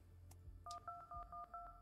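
Telephone dialing tones as a call is placed to a doctor: a short series of about five clear, evenly spaced DTMF beeps after two brief clicks, quiet and isolated with no talking.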